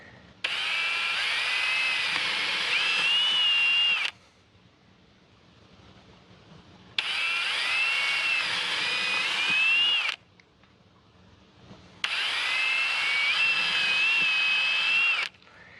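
Power drill boring holes for a Trailer Vision SB50 flush mount trailer connector, running in three loud sustained bursts of a few seconds each, separated by short quiet gaps.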